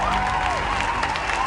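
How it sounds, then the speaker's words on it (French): An audience at the final of a plush Mario party game applauds in a brief, dense burst of clapping with crowd noise, a voice sounding over it. "on nous applaudit bien, hein"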